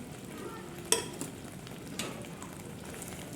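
Ghee-roasted semolina being stirred into a thickening grape laddu mixture, a quiet soft sizzle and scraping with a few faint clicks of the spoon against the pan.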